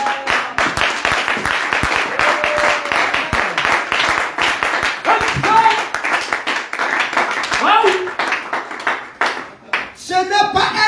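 A church congregation claps in quick rhythmic strokes, loud and close, mixed with voices speaking and calling out over the clapping.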